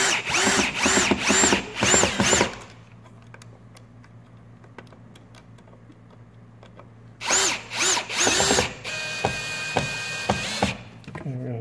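A power drill backs a screw out of a wall light switch during a single-pole and three-way switch replacement: two loud, close bursts of whirring with a quiet pause between them and no talking.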